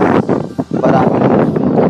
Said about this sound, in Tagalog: grabe yung lakas ng hangin dito guys ngayon sobrang lakas